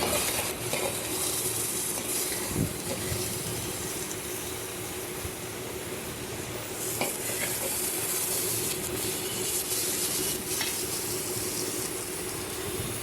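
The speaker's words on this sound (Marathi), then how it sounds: "आता आपण ह्या सगळ्या भाज्या कुकरमध्ये ओतून घेऊया" Vegetables for a vegetable pulao tipped into a pressure cooker over ghee and turmeric tempering, giving a steady broad sizzle throughout with a few scraping stirs and clatters, no one speaking.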